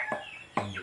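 A chicken gives two short, close clucks a fraction of a second apart while eating, each a brief nasal call with no other sound around it.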